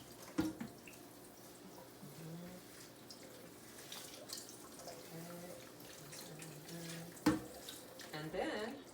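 Wheatgrass being rinsed under a running kitchen tap, a steady moderate stream of water splashing into a sink with a few sharper drips and splashes near the end.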